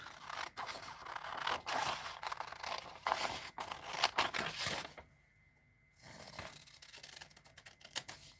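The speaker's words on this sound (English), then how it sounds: "I'm even just going to cut it with scissors." Close, crisp snipping and scraping of scissors cutting through material, repeated in quick irregular strokes, with a brief pause before cutting resumes.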